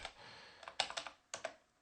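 Keys clatter on a computer keyboard as a command is entered in a Linux terminal, a quick burst of close, crisp clicks with a few louder isolated keystrokes near the end.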